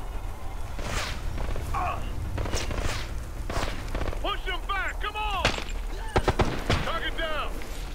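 Several sharp gunshots crack out in bursts amid footsteps and shuffling in Ghost Recon Future Soldier co-op play in Siberia, with talking mixed in between the shots.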